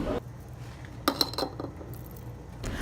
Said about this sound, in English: After I put the garlic in, I start to mix it before I put the adobo and the sazon.